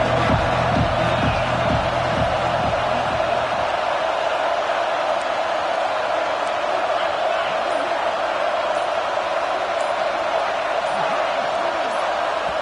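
Stadium crowd roaring steadily in NCAA college football video game, a loud, dense wall of cheering that holds for the whole stretch, with a few low thumping beats near the start.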